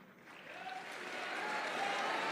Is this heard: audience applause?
yes